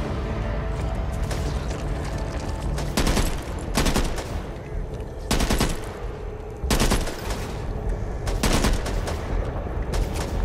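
Loud, sustained gunfire in the video game Back 4 Blood, with rapid automatic bursts and heavier booming shots spaced a few seconds apart over a dense combat din.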